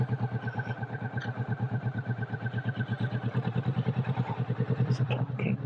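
A Kawasaki motorcycle engine idles steadily and close by, a continuous throbbing rumble with a fast, even pulse and no voices over it.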